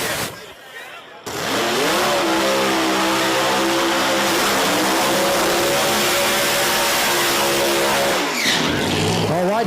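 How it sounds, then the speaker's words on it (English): Drag race cars do burnouts at Virginia Motorsports Park during an Outlaws event, a loud sustained engine roar mixed with screeching tire squeal that bursts in after a brief lull and holds steady, with rising and falling engine pitch. "Next pair finishing up their burnouts"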